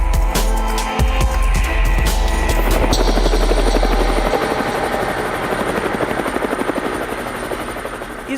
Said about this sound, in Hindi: इस हेलीकॉप्टर का नाम ही इतना इंटरेस्टिंग है, रुद्र, जो कि भगवान शंकर के नाम से है।